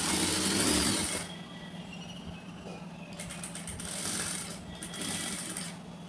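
A sewing machine stitches a saree being made into a kurti. A loud, fast whirring run is followed by shorter close-up bursts of stitching separated by quieter pauses, with no talk.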